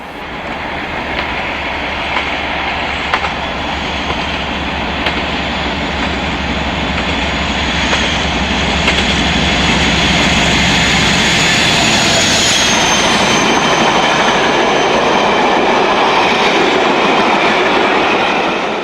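A Class 56 diesel locomotive hauls a Pathfinder railtour train from Crewe via Chesterfield, its loud engine roar building steadily as it passes close, with wheels clattering along the rails throughout.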